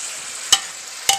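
Onions and garlic fry in a pot with a steady bright sizzle, broken by two sharp scraping stirs about half a second apart.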